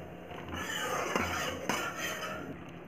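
Milk with grated khoa and cardamom powder is stirred in a pan for a parwal sweet, and a spoon scrapes and clinks against the metal in a steady, close, continuous rhythm with no talking.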